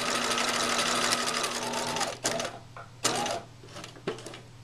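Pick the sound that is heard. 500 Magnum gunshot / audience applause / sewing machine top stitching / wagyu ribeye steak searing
sewing machine top stitching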